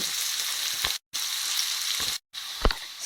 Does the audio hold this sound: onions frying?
yes